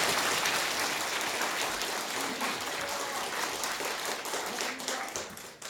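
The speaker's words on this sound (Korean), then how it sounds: "박대출 위원님한테 큰 박수 한번 보내주시면 대단히 감사합니다" An audience at a National Assembly policy debate applauds, a broad, continuous crowd clapping that holds steady and then tapers slightly toward the end.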